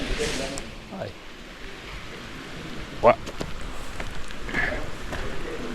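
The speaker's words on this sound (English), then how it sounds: "Hiyo mvua ni mingi." Heavy rain falls at a roofing tile installation site in Ruiru, making a steady, broad hiss of drops on surfaces with a few sharper knocks, while people talk nearby.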